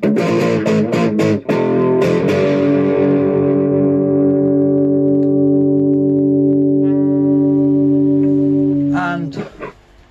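A heavily modded Orange Micro Terror guitar amp with the drive turned up rings out with loud, sustained distorted chords that slowly decay for several seconds, then a few brief scratchy strums close it out.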